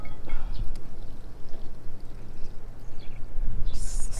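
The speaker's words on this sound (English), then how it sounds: "I'm gonna go shut this water off with the main valve." Water runs in a steady rushing pour from a line that is about to be shut off at the main valve, fairly loud and close, with some splashy bursts.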